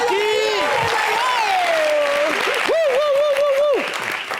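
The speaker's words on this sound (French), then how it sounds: "tonnerre d'applaudissements pour Oyoki" A studio crowd on an entertainment talk show applauds for the guest Oyoki in a steady, hissing wash, largely masked by a loud, melodic voice that speaks or sings over it before it thins out at the end.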